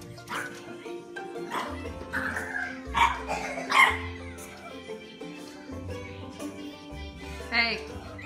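A small dog barks and yips in short bursts, close by, with a few whimpers between, over faint background noise.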